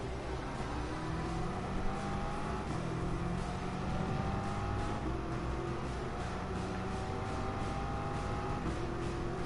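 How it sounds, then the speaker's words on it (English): A four-wheel-drive car's engine in Gran Turismo Sport drones steadily and loudly for the whole stretch, its pitch climbing and dropping through gear changes with no pauses or talking. "This car sounds good, though."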